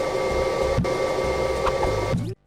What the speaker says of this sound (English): whose greatest asset is the ability to randomly play low-quality vacuum sound effects